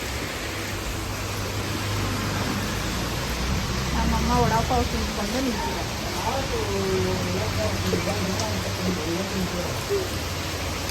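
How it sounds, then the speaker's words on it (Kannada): Heavy rain pours down in a steady, dense hiss that fills the whole clip, while a person speaks briefly over it. "ಜೋರಾಗಿ ಮಳೆ ಬರ್ತಿದೆ"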